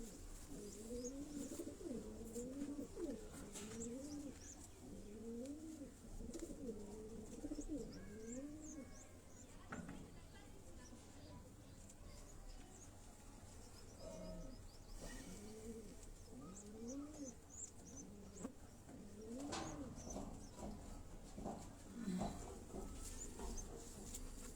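Imamdeen breed pigeons cooing at close range, repeated soft rolling coos in rhythmic phrases with short pauses between them, over faint background noise.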